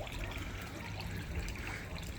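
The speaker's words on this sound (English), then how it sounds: "So it just overflows into the yard." Water from an aquarium sump system for a 600-gallon cichlid tank overflows out into a yard, giving a steady, close trickling and splashing flow that stays even and alone throughout.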